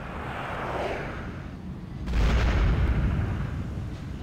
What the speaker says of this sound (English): So many missiles.